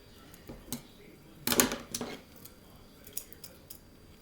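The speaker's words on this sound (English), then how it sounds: "I'm going to have to cut these one by one." Scissors snipping through thin decorative paper napkins for a Valentine decoupage craft, a cluster of close, crisp cuts in the middle with lighter snips around it and faint background sound.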